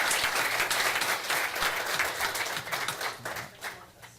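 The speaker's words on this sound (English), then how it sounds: "Give them a round of applause for all their hard work" Applause for certificate recipients at a community gathering: a sustained, fairly loud burst of many people clapping that thins and fades toward the end.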